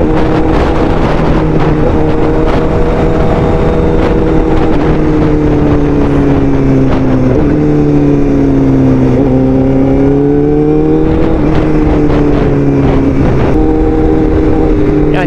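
A Bajaj Dominar motorcycle engine hums steadily while riding, its pitch rising and falling with throttle changes, accompanied by constant wind buffeting at the microphone.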